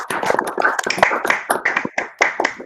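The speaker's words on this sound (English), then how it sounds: "I think that deserves an applause." An audience applauds at a hackathon results announcement, with brisk, uneven clapping from a small crowd that rises and falls over a few seconds, close and clear with no talk.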